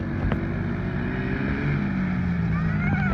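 Four-wheeler ATV taking laps around a backyard, its engine droning steadily nearby with revving pitch changes, wind buffeting the microphone and voices in the background.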